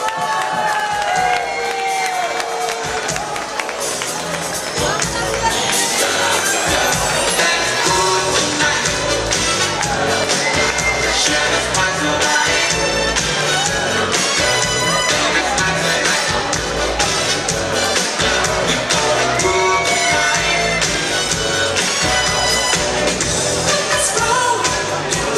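A boxing final crowd roars with sustained applause and cheering, loud and dense throughout, with whoops and shouts over the clapping and an announcer's voice briefly audible.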